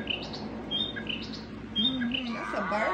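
Electronic toy bird chirps and tweets repeat in short bursts over a soft background hum.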